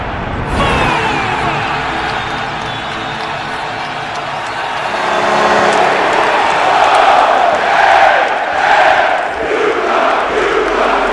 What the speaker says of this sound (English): The crowd was so loud in Hartford.